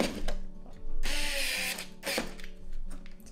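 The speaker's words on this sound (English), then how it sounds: "So we just screw this in place and we'll go from there." A power drill driving screws into a model railway layout part, with two or three loud whirring bursts of rising and falling motor pitch close to the mic, short pauses between them, and no talking.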